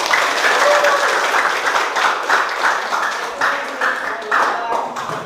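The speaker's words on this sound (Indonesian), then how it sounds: "Oke, tepuk tangan." A classroom of students claps hands together in a rhythmic, patterned burst, loud and close, with some voices mixed in.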